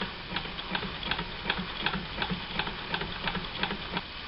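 A vintage sewing machine stitches with an edge foot, running steadily with a quick, even ticking rhythm. It sounds close and moderately loud and continues without a pause.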